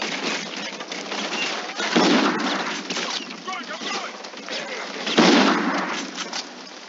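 Gunfire in the Call of Duty Infinite Warfare video game, with bursts of shots over a steady dense background of game noise, two louder blasts standing out partway through.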